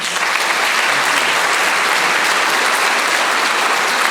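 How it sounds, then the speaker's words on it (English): Loud, steady applause from a crowd at a mayoral candidates town hall in New Orleans, a thick continuous roar of clapping that fills the whole stretch without letting up. "Big round of applause for all of our mayoral candidates."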